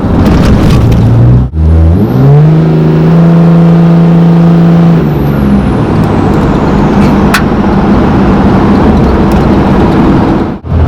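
A 760 hp Cummins diesel truck engine revs hard, its pitch climbing and holding high before easing back off, loud and close with no talking.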